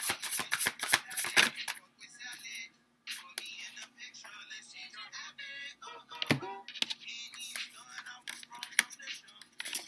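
Tarot cards being shuffled on a desk, a quick flurry of riffling card snaps up close, then softer sliding and tapping of cards as a deck is handled, with a brief pause partway.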